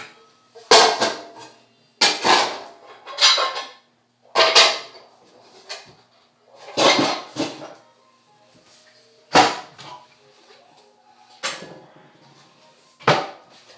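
Clanking metal pots and pans being handled and set down, several separate bursts with short pauses between, close by.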